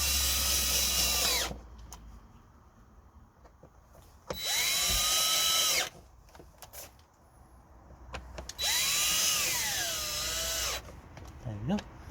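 A power drill driving screws into the air filter housing of a Vauxhall Opel Corsa during a service: three separate whirring runs of a few seconds each, close and loud, with quieter handling noises between them.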